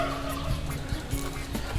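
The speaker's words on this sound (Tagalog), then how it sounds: "Yan na yung mga manok." Free-roaming chickens emerging after being called, giving repeated throaty gobbling clucks at close range, fairly loud and uneven in rhythm.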